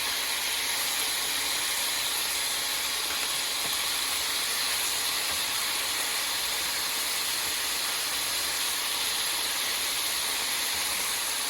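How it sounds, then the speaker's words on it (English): A steady, loud hiss and crackle of beef sizzling in hot bacon grease continues evenly throughout without pause. "I'm actually frying it in a little bacon grease."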